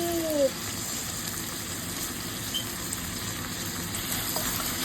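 Tomatoes and onion leeks sizzle and fry steadily in a pan, a continuous close crackling hiss with a brief tone at the start.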